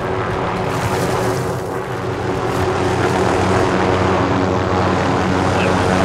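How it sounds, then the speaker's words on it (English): Helicopter in Call of Duty Modern Warfare at an airport, a loud continuous rotor and engine roar filling the scene with steady intensity. "Helicopter."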